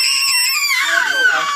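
A child's loud, high-pitched scream, close and sustained for over a second, sliding downward in pitch toward the end.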